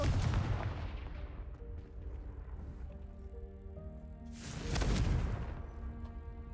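The Confringo blasting spell in Hogwarts Legacy goes off as a loud burst of explosion noise that fades into game music, then a second rumbling blast swells up a few seconds later.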